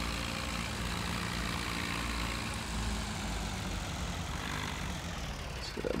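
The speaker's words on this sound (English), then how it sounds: "This does make a nice little tractor for running around the yard." Small tractor with a front weight in Farming Simulator 2017, a steady low engine drone idling throughout, moderately loud and even, with no talking.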